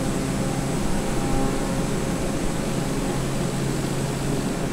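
Airplane flying through strong wind in Microsoft Flight Simulator 2020, a steady droning engine hum under a broad, constant rush of air noise.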